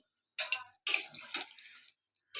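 Water is poured into a pan of potato and soybean curry in a short burst, a brief splash, then a second longer pour before a third starts, close and fairly loud, with no voices.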